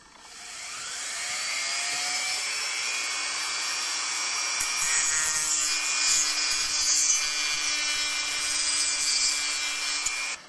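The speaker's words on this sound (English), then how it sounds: "the vibration that the Dremel tool generates onto the egg" Dremel tool with a cutoff wheel slicing through an eggshell, a continuous high-pitched whine and fine grinding buzz that starts up and holds steady for about ten seconds, close and fairly quiet, with no talking.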